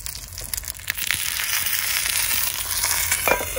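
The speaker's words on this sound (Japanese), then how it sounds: "ベーコン投入します" Bacon hits a hot pan outdoors at a camp breakfast, where olives and an egg are already cooking. It gives a loud, close, steady sizzling hiss that swells after the first second and keeps crackling with no talking.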